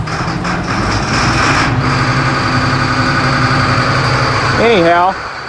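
An old farm truck engine on a cold day turns over and settles into a steady, close idle. The engine noise continues throughout, with a brief rising tonal sound near the end.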